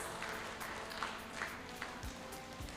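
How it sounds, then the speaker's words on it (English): Faint audience applause after a keynote speaker at a commencement ceremony, a steady patter of clapping in a large hall with a few louder claps standing out. "let us give our keynote speaker a big round of applause."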